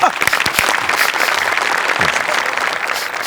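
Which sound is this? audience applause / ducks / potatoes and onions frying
audience applause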